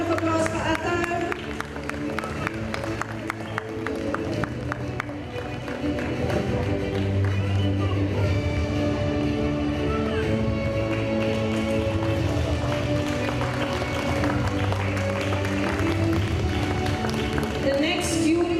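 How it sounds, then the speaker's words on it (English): Applause from an audience at a kids' annual day for a nursery child, steady crowd clapping mixed with music playing throughout, fairly loud and continuous. "A huge round of applause for Athar."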